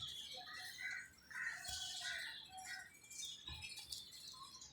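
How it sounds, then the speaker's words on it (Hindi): Pigeons kept in a crate give faint, scattered squawks and chirps with soft rustling patter of movement, no voices. "क्रीज में कबूतर पड़े हुए हैं।"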